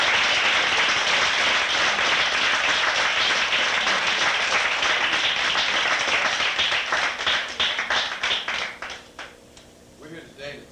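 Audience at a 1985 talk on the legacy of Malcolm X applauding the members of the New African People's Organization, sustained dense clapping that thins out into scattered claps as a voice begins.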